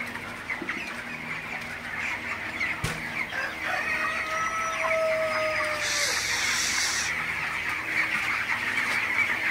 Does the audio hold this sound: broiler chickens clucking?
yes